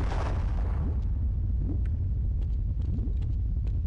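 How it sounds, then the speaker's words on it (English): A volcano erupts in the game They Hunger, a loud, sustained deep rumble with a heavy explosive onset and scattered crackles, continuous throughout. "Well, a volcano just popped up. And is now exploding."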